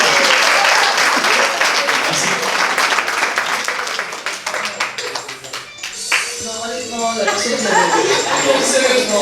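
Audience applause at a business meetup, a dense burst of clapping that thins after a few seconds into scattered claps, with talk and cheering voices rising over it toward the end.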